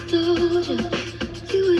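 Music plays steadily from the radio of a 1981 Pontiac Firebird Trans Am Turbo, a sustained melodic tone over rhythmic beats, moderately loud and continuous.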